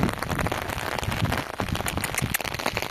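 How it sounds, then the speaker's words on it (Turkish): Steady, dense rain patters on a surface nearby, a constant hiss of drops with no pauses. "Bol yağmurlu bir gün."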